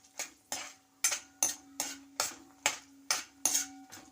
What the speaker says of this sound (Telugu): ఆ పచ్చడి దీంట్లో కలిపేస్తాను.